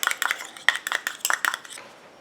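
Small tool clinks against a container while a gelatinous rose anti-aging serum is stirred and mixed, a quick series of light, bright taps and scrapes in irregular bursts that thin out toward the end.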